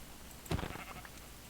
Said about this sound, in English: There's another sheep.